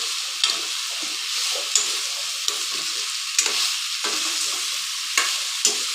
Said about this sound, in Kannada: ಈ ಥರ ಶಾಲೋ ಫ್ರೈ ಮಾಡ್ಕೊಳ್ಳಿ